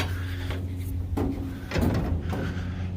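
A yellow-handled clean-out door is pushed shut from inside a cramped space, with a few dull thuds and scraping slides over a steady low background hum.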